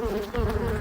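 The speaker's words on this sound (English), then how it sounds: "I didn't realise there was a bee on the camera up until now" A honeybee buzzes right against a camera at a beekeeping apiary during a swarm, a close, steady, droning whine that holds for under a second and swells sharply at the end.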